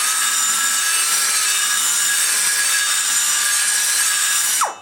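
Grinding tool cutting into the aluminum bowl of a Dart Pro One big-block Chevy cylinder head, giving a loud, sustained high-pitched whirring grind that holds steady before spinning down abruptly at the end, no talking.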